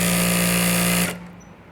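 A sewing machine runs at speed with a loud, even mechanical whir and steady hum for about a second, then stops abruptly and leaves a faint fading residue.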